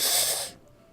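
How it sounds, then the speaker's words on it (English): A single sharp inhale sucked through teeth in DDLC Plus, a brief close hiss lasting about half a second before falling to near silence. "A sharp inhale, like someone is sucking the air through their teeth."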